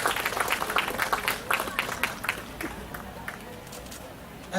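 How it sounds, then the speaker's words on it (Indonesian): Applause for the city council at a Batam DPRD anniversary ceremony, a burst of crowd clapping that starts fairly strong and thins out to scattered claps over a few seconds. "Tepuk tangan untuk Dewan"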